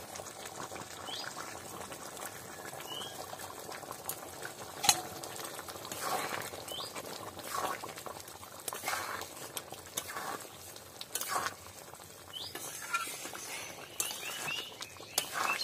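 Vegetarian aloo dum, a potato curry, bubbles and simmers in a pan after fried cinnamon and cumin are stirred in, a faint, steady patter of boiling with no voices.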